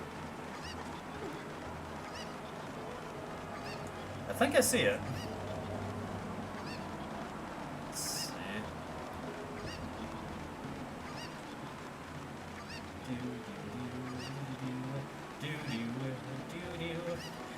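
A cucco chicken squawks and honks in Zelda: Ocarina of Time in short, loud bursts, one just before the middle and another soon after, with fainter calls later, under a quiet talking voice.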